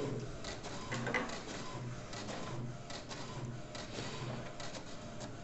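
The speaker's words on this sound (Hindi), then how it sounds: "पूरी तरह से ब्लैंक प्रिंट हो रहा है" An HP 2330 inkjet printer runs a blank page through, giving a loud, steady mechanical whirring and rattling feed throughout, with no talking.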